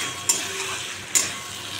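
Green chillies tempering in hot oil in a frying pan give a constant soft sizzle and crackle, broken twice by brief sharp clinks of a utensil against the pan.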